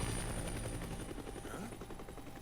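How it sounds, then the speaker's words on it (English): A news helicopter flies overhead, its rotor making a steady rapid chop that stays loud and close throughout, then eases slightly toward the end, with no talk over it. "It's just a news chopper for the fireworks display later on."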